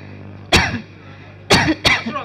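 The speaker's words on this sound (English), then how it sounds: "Can you see my daughter coughing?" A girl coughs in three sharp, loud bursts, one single cough followed a second later by two more close together, with no talking.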